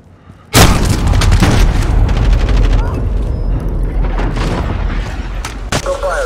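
A heavy missile blast in Call of Duty: Modern Warfare on the Vacant map during a Domination match erupts abruptly, loud and close, then rumbles on in a long roaring tail with scattered crackles and voices underneath.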